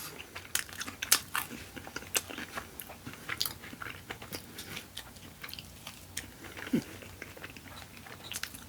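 Wingstop fries being chewed close to the mic, with repeated crisp crunches and wet bites in a steady eating rhythm and no talk over them.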